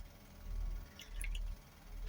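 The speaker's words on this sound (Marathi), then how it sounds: "असं ह्याच्यात टाकणार आहे बघा मी लिंबूचा रस" Lemon juice dripping into a glass of cold water for summer lemonade. Faint, sparse drips and small splashes come through briefly, mainly in the middle and at the end, over a quiet low background.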